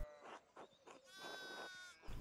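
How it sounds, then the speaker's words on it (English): Several sheep bleat in the video game Pentiment, a few close, wavering cries in quick succession, quiet and without talk. "we need to get these sheep under control."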